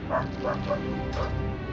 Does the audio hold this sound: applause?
no